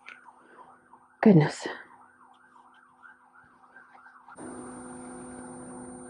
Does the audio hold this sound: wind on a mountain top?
no